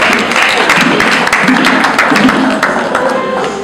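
An audience applauds and cheers to acclaim a family at a Congolese celebration, a dense, loud wash of clapping that holds steady throughout and sits over a faint murmur of voices.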